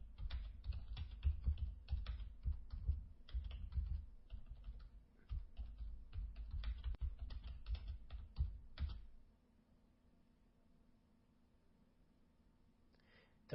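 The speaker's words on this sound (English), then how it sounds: "I'm just going to type a message to Luann." Rapid, uneven clicking of keys on a computer keyboard as a message is typed, close and fairly quiet, running about nine seconds before stopping into near silence.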